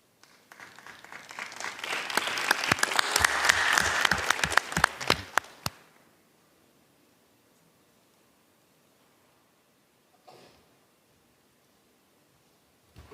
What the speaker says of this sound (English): It's good to be applauded before you speak.